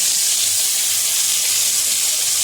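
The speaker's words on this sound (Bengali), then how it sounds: "বড় কড়াইতে ভেজে নিই।" Lentils fry in oil in a large wok, a loud, steady hissing sizzle with no break or voices.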